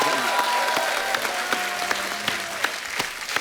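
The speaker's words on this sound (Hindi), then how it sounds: "जोरदार तालियां हो जाए एक बार अमित जी के लिए।" Audience applause for a guest at a Hindi entertainment interview, a dense steady patter of many hands clapping at moderate level throughout, with a few sharper claps standing out.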